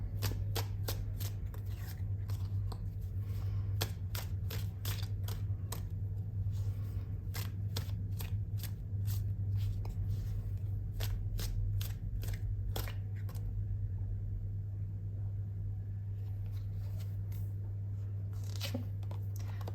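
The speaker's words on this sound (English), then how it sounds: "They want me to shuffle a little bit more." Repeated crisp riffles and snaps of tarot cards being shuffled in irregular bursts over a steady low hum, close by, with no talking.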